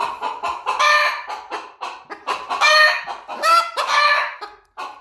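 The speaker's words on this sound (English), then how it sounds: "this is what it sounds like when the chickens have a little argument" Backyard chickens squabbling with a rooster, a rapid run of loud, close squawks, clucks and harsh cries in uneven bursts, with no one talking.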